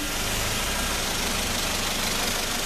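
A 2012 Ford Focus 2.0 16v Duratec engine idling in a mechanic's workshop, a steady, even hum with a faint low throb, continuous and close with no talking.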